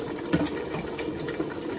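Steady rush of hot pasta water pouring into a pan, continuous and fairly close, with faint bubbling underneath.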